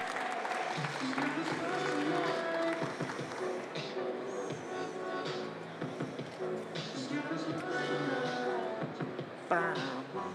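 Audience at the World Barista France 2017 final clapping for a barista, a sustained wash of applause under ongoing talk and background music-like tones, moderately loud and steady.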